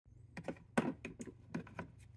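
A drawer slides out of a Craftsman Versastack tool chest holding a mechanics tool set, with several rattling metallic clicks and knocks from the tools shifting inside, close and fairly quiet.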